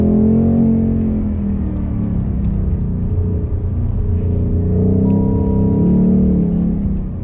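Ford GT V8 engine heard from inside the car on a wet, tight track, a loud continuous low growl whose pitch rises and falls as the engine revs through a corner.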